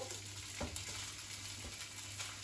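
Chopped morcilla frying in oil in a pan, a steady close sizzle with light crackles and faint stirring scrapes, with no talk over it.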